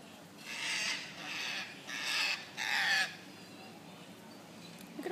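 A wild bird scavenging spilled salt calls four times in a row, each harsh rasping caw lasting about half a second with brief gaps, fairly close and loud over a quiet outdoor background.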